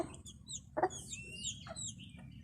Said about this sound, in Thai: เช้าวันแม่ มาดูแลไก่ครับ